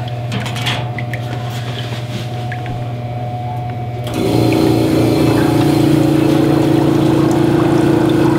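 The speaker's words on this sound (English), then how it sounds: "This is our fancy egg washing machine." An egg washing machine with a small compressor pumping air bubbles through a sink of water, a loud continuous hum and bubbling that steps up sharply in volume partway through.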